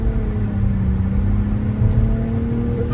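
A 2022 Nissan Rogue engine running at a raised, fairly steady rev, a loud close droning hum and rumble with a slowly rising tone, no talking.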